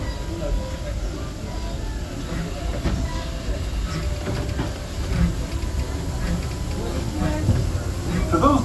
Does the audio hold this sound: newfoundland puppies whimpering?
no